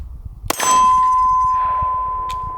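A sharp metallic clang from a Glock pistol magazine reload using the button release, followed by a steady ringing tone that slowly fades over about two seconds, close and loud with no talking.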